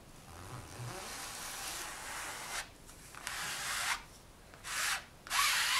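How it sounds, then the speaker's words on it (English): A scraper drags paint across a silkscreen over polymer clay, giving several rasping strokes that grow louder toward the end after a quieter stretch of rubbing. "use it to scrape that paint through your screen"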